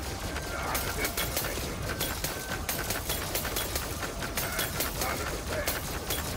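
Continuous rapid shooting from the Help Wanted 2 video game chatters in fast, even bursts, a dense, steady stream of shots at moderate level.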